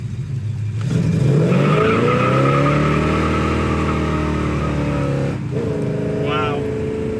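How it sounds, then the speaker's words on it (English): A 1969 Chevelle accelerating hard and fishtailing, its engine roaring loud and steady as it climbs, with tires squealing briefly near the end and voices talking over it. "Go ahead and just punch it once and see what she's got."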